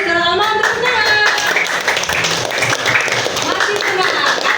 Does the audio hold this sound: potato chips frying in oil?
no